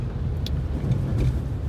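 Cars sit idling in a Russian traffic jam, a close, steady low rumble of engines with no talking.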